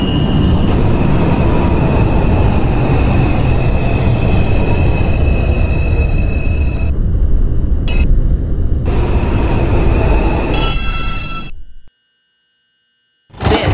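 An R142 subway train on the Manhattan-bound 4 line runs loudly and steadily in a simulator, with rumbling wheels, squealing and a sustained whine, then cuts to silence briefly near the end before resuming.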